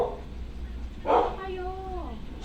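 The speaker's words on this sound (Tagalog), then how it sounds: "Nag-aaway ang aso." Dogs fighting nearby, with a short burst of snarling followed by rising and falling whining yelps, heard fairly quietly over a low background hum.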